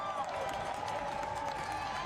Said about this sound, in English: jubilation in the crowd